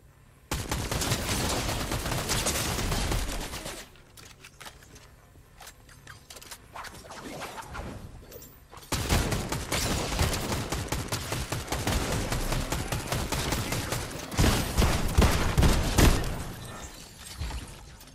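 Turrets firing in Fortnite: long stretches of rapid, continuous automatic fire, loud and near, broken by a brief quieter lull before the barrage resumes and intensifies.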